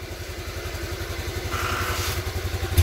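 A motorcycle engine runs at a steady low pulsing idle, close by, with a faint clatter on top and no voices.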